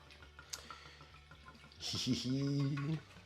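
Wine glugs into an empty, cleaned-out SodaStream bottle in a single pouring burst of about a second, a bubbling, gurgling fill with a rising tone, after a quiet stretch of faint clicks and handling.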